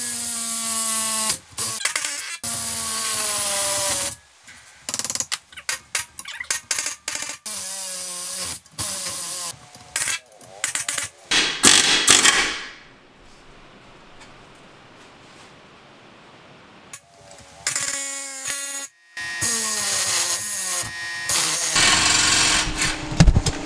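An old, weak air hammer rattles against loose welds on a clutch pedal, bursts of harsh metallic hammering that start and stop in uneven stretches, with a quieter pause in the middle before the loud chattering resumes.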